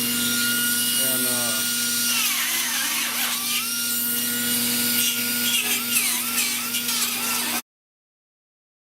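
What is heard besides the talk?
die grinder grinding rusty car body metal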